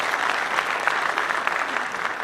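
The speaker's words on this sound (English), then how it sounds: "One more round of applause for Sir Javed, sir." An audience in Kohima claps steadily for Javed Akhtar at an evening interaction event, a dense, even wash of applause sustained throughout with no voices above it.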